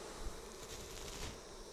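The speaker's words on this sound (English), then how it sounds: "So smoke away the bees so that you can give them time to get out of the way." Honey bees swarm around Flow Hive frames as smoke drives them off, a dense steady buzzing that stays close and constant throughout.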